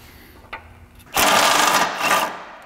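A power tool buzzes loudly on fasteners of a Honda Element engine mount, a sustained rattling whir of about a second and a half that dips briefly and resumes, following a few faint clicks.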